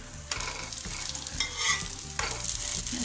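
Coin parotta frying in oil on a pan: a soft, close sizzle with intermittent scraping and flipping sounds as the flatbread is turned, quiet and continuous with no talking.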